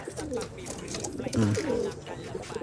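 Racing pigeons cooing nearby, with several soft, throaty rolling coos rising and falling in quick sequence under a low background murmur.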